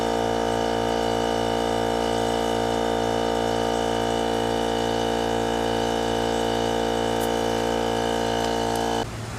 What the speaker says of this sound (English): Now all I need to do is add air back to the tire and fill it up to the right PSI.